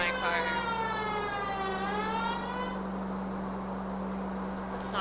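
A wailing police car siren in the video game L.A. Noire sweeps up and down loudly for a few seconds and then cuts off, leaving a steady engine drone underneath.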